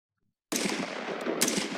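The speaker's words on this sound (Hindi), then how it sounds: "यहाँ पे आप एनिमेशन में देख सकते हो कि यहाँ पे इसने ट्रिगर पुल किया है तो कंटिन्यूअसली फायर होते" Automatic firearm firing continuously in an animation, a dense unbroken burst of gunfire starting abruptly after a brief silence and holding steady, loud, to the end.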